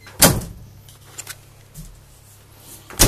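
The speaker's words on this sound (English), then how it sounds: "two doors here that open up" Closet doors in the hallway of a 1999 Airstream Cutter 35 diesel pusher motorhome open with a sharp clack, a few softer knocks in between, then another firm click at the end.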